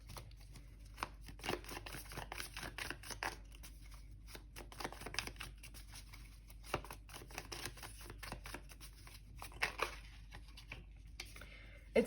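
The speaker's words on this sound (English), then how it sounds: "Okay, now let's shuffle." A deck of tarot cards is shuffled by hand in a quiet room, with repeated soft riffling and crisp flicking bursts in an irregular rhythm, close and fairly faint, with no talking.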